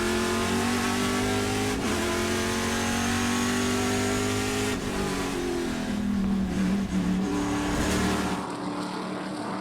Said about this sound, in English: I love listening to the sound of these TA2 cars.